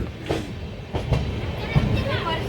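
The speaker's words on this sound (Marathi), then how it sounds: "इगतपुरीवरून आता ट्रेन निघलेली आहे" A train rumbles and clatters on the rails as it departs Igatpuri station, steady low rolling noise with a few metallic knocks up close.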